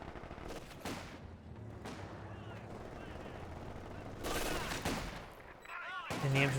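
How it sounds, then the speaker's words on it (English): Bursts of MG42 machine gun fire in a Company of Heroes 2 battle, with fusillades mixed in. The shooting sits beneath continuous commentary, and louder bursts of fire come in toward the end. "the MG42 does pin down that intersection"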